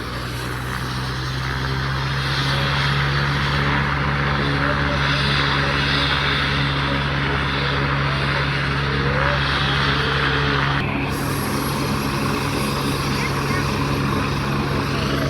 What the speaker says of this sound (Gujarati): હેલિકોપ્ટર ફૂલ પવનમાં ફૂલ જોશમાં અત્યારે શરૂ થઈ ગયું છે